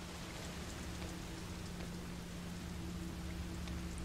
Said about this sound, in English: The sound of raindrops on the window echoes faintly.